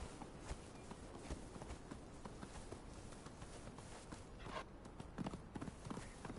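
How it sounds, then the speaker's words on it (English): Pony hooves clip-clop in the Isle of Siptah video game, a quick, uneven patter of light hoof strikes over a dense, noisy background, fairly faint and continuous throughout. "Ponies! What are they doing?"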